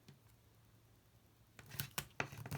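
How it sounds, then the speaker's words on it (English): Red liner tape pulled from the roll and pressed onto a matte-laminated square cracker gift box, heard as a few sharp close rips and crackles in the last second after a quiet start. "We're going to run some tape. Now I'm using the red liner tape"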